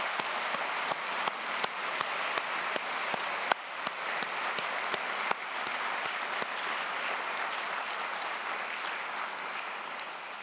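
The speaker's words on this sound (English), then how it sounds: "I'd like to ask you now to join me in thanking them with another round of applause." Sustained applause from a graduation ceremony audience at Ravensbourne University London, thanking the graduates' supporters; dense steady clapping fills the whole stretch with a few sharper claps standing out, no voices over it.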